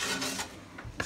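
Dusty, rusty metal on an old wood-burning heating stove is scrubbed in short, close rasping strokes, a few quick rubs in rough rhythm with no talking.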